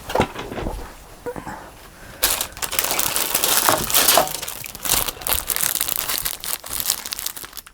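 Coffee-dyed paper is handled and crinkled up close, with bursts of rustling, crumpling and scratchy paper noise that start softly and grow louder and more continuous.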